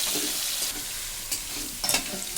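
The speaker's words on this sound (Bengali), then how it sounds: "সেই তেলেই আমি হালকা করে দশটা আমি চিংড়ি মাছ ভেজে নেব" Ten prawns fry lightly in hot oil, giving a continuous close hiss of sizzling with a few brief bursts of movement in the pan.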